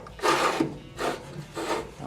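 A repaired GE dryer motor assembly turned over while something rubs inside, giving three slow rasping, scraping passes with short gaps between them, close and fairly loud.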